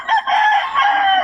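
A rooster crows once, loud and close, a strained drawn-out call lasting about a second.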